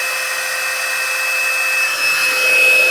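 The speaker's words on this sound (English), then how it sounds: "I'm going to let my heat tool heat up a bit." An embossing heat tool blows steadily on its highest setting, a loud, close, even whooshing hum with a thin high whine, swelling slightly louder toward the end, with no voices.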